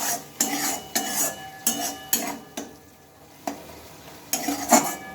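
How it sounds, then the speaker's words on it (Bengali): A spice masala is sautéed and stirred in a pan, with repeated scraping strokes of a spoon at a steady rhythm, a soft sizzle beneath and a brief quieter pause midway, close and fairly loud. "মশলাটা তো আমি ভালোভাবে কষিয়ে নিই"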